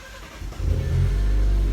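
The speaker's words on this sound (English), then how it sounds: "How you reset the steering is you start the car" An Alfa Romeo Giulia engine cranks and catches, then settles into a loud, steady low idle rumble that fills the rest of the short clip, with no speech.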